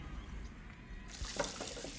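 A running kitchen tap pours into a sink while dishes are washed in the Captain Spirit game, the water bursting on close and loud after a quiet, low rumbling start.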